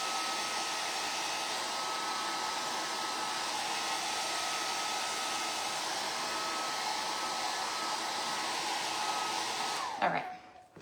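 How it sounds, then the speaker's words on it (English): A hair dryer drying ink on a handmade bookmark blows with a loud, steady whoosh and a thin whine for about ten seconds. Then it cuts out abruptly and the noise drops to near silence. "I have to get a new dryer. This one does not like to stay plugged in."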